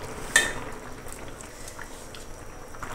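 Fish pieces stirred into a simmering curry in a pot, a single sharp clink of a utensil against the metal followed by soft bubbling and quiet stirring, faint and close.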